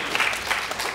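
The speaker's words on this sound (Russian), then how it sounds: "аплодисменты" Brief burst of applause from a television studio audience during a talk show, a short patter of clapping with no speech.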